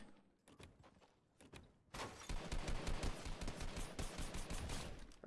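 Rapid bursts of gunfire in the video game Fortnite, sparse at first and then a dense, loud stretch of repeated shots after a brief lull.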